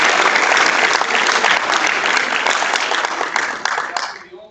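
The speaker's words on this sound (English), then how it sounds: "please give our panel a round of applause" Loud, dense applause from a live show audience for a panel, many hands clapping continuously before tapering off in the final half-second.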